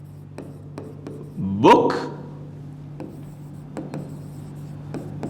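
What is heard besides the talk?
writing down an example sentence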